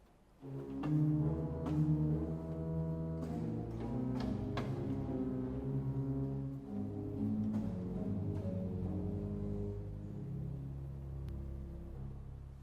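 Soft, sustained pipe organ chords from Bach's chorale prelude Jesu, meine Freude, BWV 610, drift through slowly shifting harmonies over a low pedal bass line, with a few gentle note attacks punctuating the held tones.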